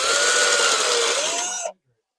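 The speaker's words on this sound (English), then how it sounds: "Let's drill some holes." A power drill whirs loudly and steadily for under two seconds, its pitch dipping slightly as it bites, then cuts off abruptly into silence.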